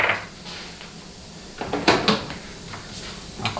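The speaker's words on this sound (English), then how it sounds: "Close that drawer." A drawer in a workshop during a 4L60E transmission teardown is pushed shut, giving a couple of sharp wooden knocks and slides after quieter handling noises, with no talking.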